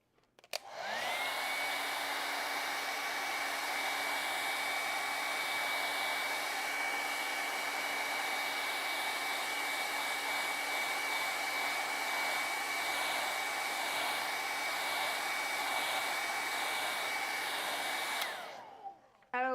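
A hair dryer drying acrylic paint on a landscape canvas runs as one steady, loud, whooshing blow for roughly seventeen seconds before switching off.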